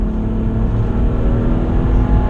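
A BMW 3 Series engine roars steadily and hard under load, a loud, continuous drone that keeps climbing without a break, revving up to 7,000 rpm.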